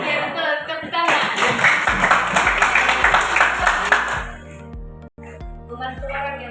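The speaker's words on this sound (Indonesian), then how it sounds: "tepuk tangan dulu buat dia" Students in a classroom break into clapping together for a classmate, a loud burst of many hands for about three seconds that then stops abruptly, leaving ringing resonant tones and a few taps.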